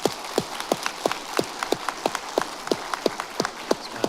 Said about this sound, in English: Round of applause, everybody, please.